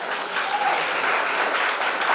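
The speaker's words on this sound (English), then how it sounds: "Give a huge round of applause for the winners" Steady applause from a crowd at a university project expo valedictory ceremony, honoring the prize-winning teams; dense, even clapping fills the room at moderate loudness without pause.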